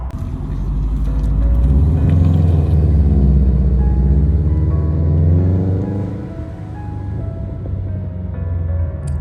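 A deep, burbling Subaru engine rumble builds as the car pulls away, then fades somewhat into a lower, steady idle-like drone.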